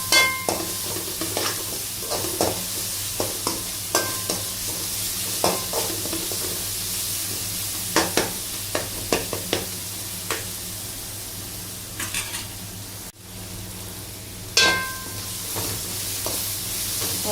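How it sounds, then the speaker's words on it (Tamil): Onions sautéing in hot oil for a crab dish sizzle steadily while a spoon stirs and scrapes the pan in frequent sharp clicks, with a brief gap partway through. "எண்ணெயிலேயே கொஞ்சம் நல்லா வணக்கி விடுங்க"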